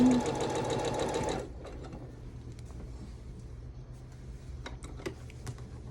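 A sewing machine stitches a quilt in a fast, loud mechanical whir for about a second and a half, then stops, leaving faint clicks and handling noises in a quiet room.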